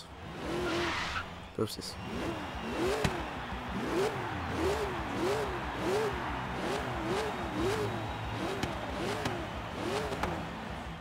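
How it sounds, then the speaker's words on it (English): A supercharged car in Forza Horizon 3 gives a steady engine drone topped by a rising and falling whine that pulses at a regular rhythm through the gear changes, loud and close, with a brief spoken word near the start. "supercharger whine"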